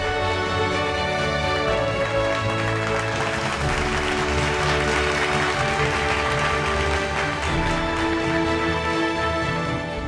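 Loud applause from an audience at a televised healthcare innovation awards finale welcomes a team onto the stage, clapping blending with strong stage music throughout.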